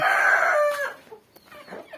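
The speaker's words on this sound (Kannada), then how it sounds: "ಎಷ್ಟು ಚಂದ ಅದ ನೋಡ್ರಿ ಕೋಳಿ." Chickens on a farm, with a rooster crowing loudly and close, its call trailing off, followed by softer scattered clucks.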